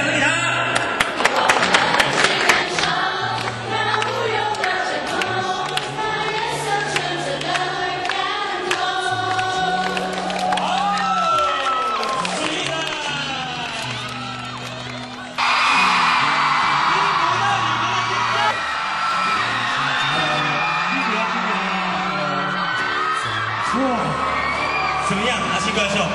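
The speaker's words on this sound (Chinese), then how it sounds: "有感受到现场过万人的那个叫喊声吗？" A huge concert crowd of over ten thousand fans at a fan meeting in Malaysia cheers, whoops and yells continuously, loud and dense, with the roar surging even louder about halfway through.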